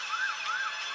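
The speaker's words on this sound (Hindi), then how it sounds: "तभी दूर से सबको एम्बुलेंस का साइन सुनाई दिया।" An ambulance siren wails in a repeating rising and falling pattern, fairly loud and clear, with nothing else heard.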